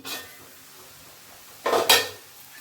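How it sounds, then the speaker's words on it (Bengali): In a home kitchen cooking a Bengali red amaranth dish, a short metallic clink comes first, then a louder clatter as the lid is lifted off the cooking pot, close and clear. "ঢাকাটা খুলে দিলাম"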